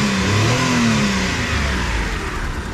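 Small engine of a 1993 Mitsubishi Bravo kei van revved high, a loud sustained whine climbing then easing off, with no voices.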